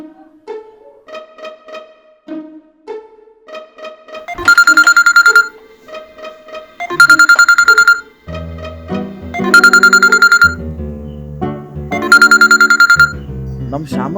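A phone ringtone plays loudly in a Kannada movie scene: a bright electronic melody repeats in short looping phrases, with brighter, fuller chiming bursts recurring at regular intervals.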